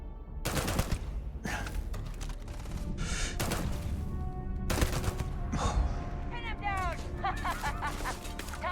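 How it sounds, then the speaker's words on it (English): Rifle gunfire in the video game Starfield: sharp bursts of shots scattered throughout, near and loud, mixed with voices talking and other in-game sounds. "You're being shot at."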